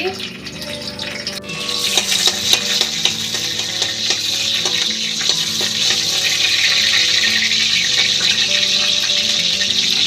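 Chillies hit a little hot oil with a few clattering knocks, then burst into a loud, steady sizzle that keeps building and stays up close, with a voice speaking briefly early on.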